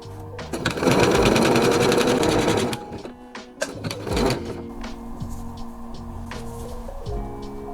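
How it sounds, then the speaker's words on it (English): A sewing machine sews a 3-step zigzag stitch on lace, starting with a loud steady burst of about two seconds and followed by scattered clicks and light handling noises. "I will attach this with a 3-step zigzag stitch and with the slightest stretch"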